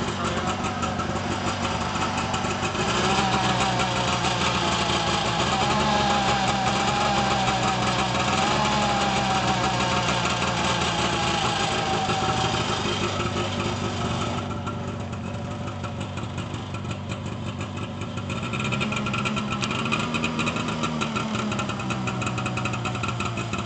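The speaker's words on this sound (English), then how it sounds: "We'll let her idle for about 10 minutes or so." A 1989 Arctic Cat Jag 340 snowmobile engine idling at its first start of the season, a steady, close, continuous buzzing drone with slight shifts in pitch, heard alone throughout.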